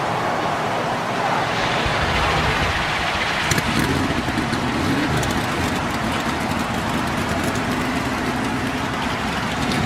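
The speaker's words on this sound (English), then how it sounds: "And the engines are fired." Race car engines fire up together at Pocono in a racing video game, a dense steady roar of idling motors filling the scene without any voices.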